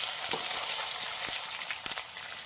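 Curry leaves, finely chopped green chilli and cashew slivers sauté in hot oil for homemade upma premix, giving a steady close sizzle with a few soft stirring scrapes and no voices.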